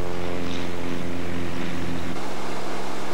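A Mooney 252 single-engine airplane accelerates down the runway on takeoff, its steady propeller and engine drone heard loud and close without talk, the tone shifting and easing near the end.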